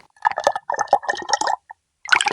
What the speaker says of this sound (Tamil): பாலை பூரா அடுப்புல ஊத்திக்கிட்டு இருக்கானே